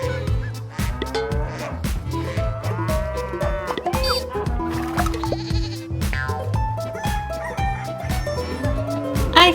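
Sheep and lambs bleat repeatedly in a farm pen, overlapping calls near and far, with some low moo-like bleats mixed in, continuing throughout without a break.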